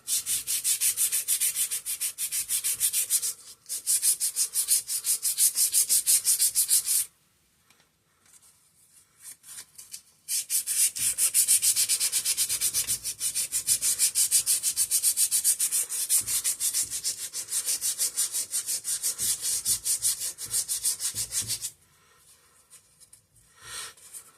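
Rust is scrubbed off the magnet of an antique McCulloch generator recovered from a flooded basement, with fast rhythmic abrasive rubbing in long close bursts split by short pauses.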